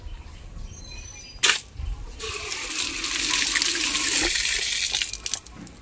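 Running water splashes steadily as coriander leaves are washed, a close, continuous rushing stream after a sharp knock near the start, with no talk.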